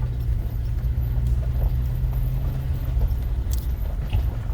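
Horses on a mountain road, a steady clopping of hooves under a continuous low rumble, with a brief jingling of tack, no voices.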